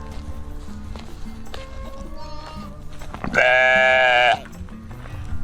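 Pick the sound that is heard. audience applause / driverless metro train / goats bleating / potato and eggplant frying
goats bleating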